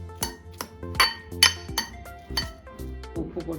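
A spoon clinks sharply against a bowl while mixing a salad of onion, tomato, raisins, apple and pomegranate, giving about a dozen close, bright ringing taps in an uneven rhythm.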